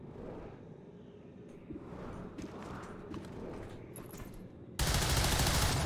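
Gunfire from a skirmisher in XCOM 2, a run of sharp shots and bursts over game ambience that ends in a loud, sustained blast of noise near the end.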